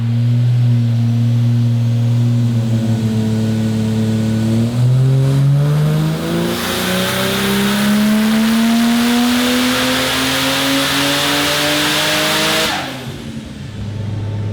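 A car engine on a dyno climbs steadily under load through a long power run, loud and close, the pitch rising continuously before cutting off abruptly near the end.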